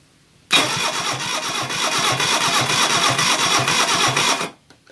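A car engine being started on a garage floor, part of a project car under repair, cranks and catches at once, then runs loud and close with a steady, slightly uneven beat for about four seconds before cutting off.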